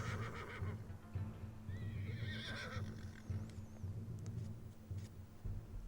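A horse whinnies in the Battle Realms video game, a clear high neigh rising and falling over a steady low hum of game ambience and music, with faint hoof clops.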